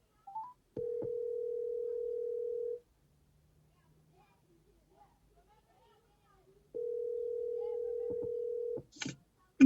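Steady electronic call tones play through an Amazon Bluetooth car adapter during a phone call, two long flat tones of about two seconds each separated by a quiet gap, followed by brief clicks and a short burst.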